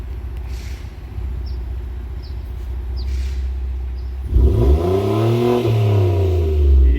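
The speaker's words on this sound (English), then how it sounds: "can you give this thing some revs? I want to hear it." A 2019 Dodge Challenger Scat Pack Widebody idles with a deep, steady rumble, then its engine is revved hard, rising and falling in loud, close sweeps.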